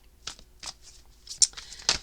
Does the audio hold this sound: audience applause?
no